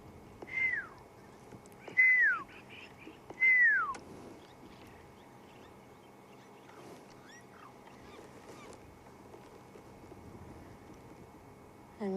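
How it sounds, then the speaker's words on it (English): Lapwings in the African bush give three loud, clear descending calls close by, followed by fainter whistles from a pearl-spotted owlet far off, with a quiet background between. "You can listen to the calls of the lapwings and a pearl-spotted owlet somewhere in the distance"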